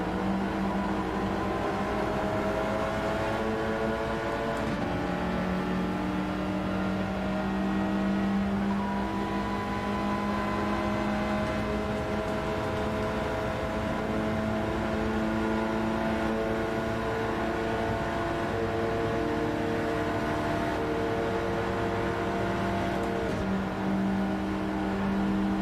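Steady race car engine drone in Gran Turismo 7, GR.4 and GR.3 cars at Watkins Glen or Catalunya, a continuous whirring hum with shifting pitch held for nearly half a minute, no voices.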